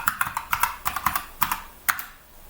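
Keys on a computer keyboard clicking in quick, uneven bursts as a password is entered, crisp and close with short pauses between strokes and no speech.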